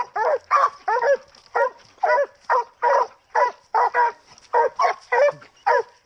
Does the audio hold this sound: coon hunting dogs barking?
yes